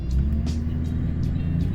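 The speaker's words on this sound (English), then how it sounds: "Oh, look at that tow truck." A vehicle engine drones steadily in traffic, low and close, with a tow truck nearby and faint bursts of higher noise passing by.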